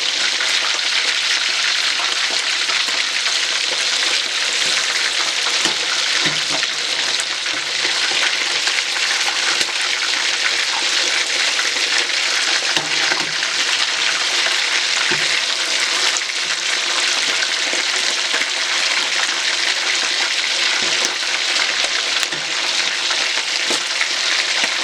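Fish frying in a pan, a loud continuous crackling sizzle holding steady for a long stretch with faint occasional pops and no talk.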